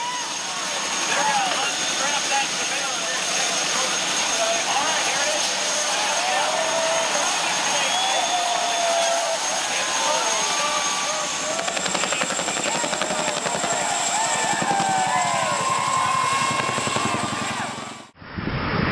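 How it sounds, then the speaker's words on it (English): A heavy-lift Chinook helicopter carries a race car to a track in Texas, its loud rotor and turbine roar running steady and near throughout, with faint voices mixed in before the noise drops away at the end. "A heavy-lift Chinook delivers a race car directly to the track in Texas."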